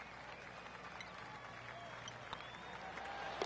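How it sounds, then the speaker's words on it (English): Gallery crowd in the PGA 23 golf video game gives a polite, sustained golf clap after a bunker shot, a steady soft patter of applause throughout with a slight swell toward the end. "golf clap, really good"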